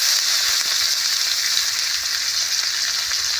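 Chopped onion frying in hot mustard-style oil with bay leaves and five-spice seeds, a steady close broadband sizzle that holds evenly throughout with faint stirring scrapes and no voices.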